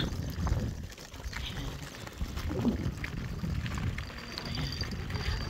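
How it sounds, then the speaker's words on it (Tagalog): Gusty wind buffets the microphone in an open field near an old grain elevator in Alberta, a continuous low roar that swells and dips, with faint rustling underneath and no clear talk. "Sobrang hangin dito kasi open field."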